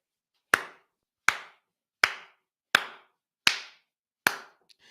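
A single person clapping six slow, evenly spaced claps, each a sharp, close, loud crack with a short room decay and silence between.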